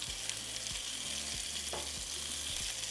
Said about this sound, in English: we're going to allow that side to sear for another 2 minutes